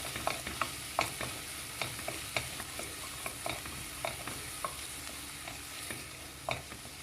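Garlic and potato stirred in butter in a pan for broccoli soup, a quiet continuous sizzle broken by regular soft scrapes of the spoon, heard alone without talk.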